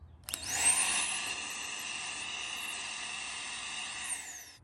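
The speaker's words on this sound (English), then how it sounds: "we should be able to hear air coming out of this hose" Secondary air injection pump on a Toyota Tundra 5.7L 3UR-FE V8 running alone, a steady, close whining hiss of air blowing from its hose, starting abruptly and holding constant for several seconds.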